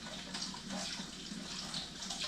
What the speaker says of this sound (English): I run it under hot water for a second.